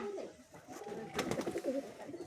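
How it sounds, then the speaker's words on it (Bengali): A pair of Jiriya pigeons, one male and one female, cooing softly at close range in a brief, faint stretch of low throaty coos. "এই দুটো জিরিয়া পায়রা"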